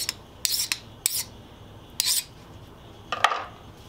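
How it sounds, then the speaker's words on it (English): A hand file scrapes across the hardened top of rusty saw teeth in a few short, sharp rasping strokes, close and fairly quiet, separated by brief pauses. "Then you just file across the top of this."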